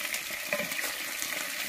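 Food fries in oil in a big iron wok over a village fire, a constant loud crackling sizzle filling a short stretch with no voices.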